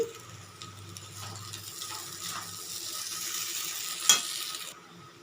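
Chow mein noodles being stirred in a pan over a low gas flame, giving a steady soft sizzle with light scraping and stirring noises and one brief clink near the end, no talking.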